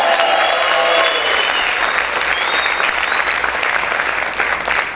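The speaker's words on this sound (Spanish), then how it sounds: "¿Cuántos pueden gritar y aplaudir fuerte al Señor?" A church congregation claps and cheers loudly in praise, a dense, sustained burst of applause with shouting voices that stays strong for the whole span and tapers only slightly at the end.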